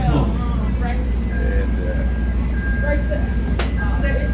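Inside the rear car of a Chicago L Purple Line train in motion, a steady loud rumble of wheels and motor runs throughout, with faint squeals, while people talk over it.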